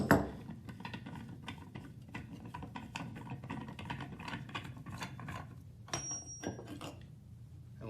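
A wrench breaks free a fitting on a water funnel kit, producing close metallic clanks and ratcheting clicks, with a few sharper knocks near the end.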